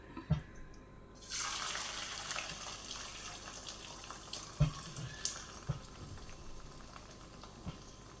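Egg, potato and onion mixture for a Spanish omelette poured into a hot oiled pan, setting off a sudden loud broadband sizzle that holds steady for several seconds with a few faint clinks of utensils.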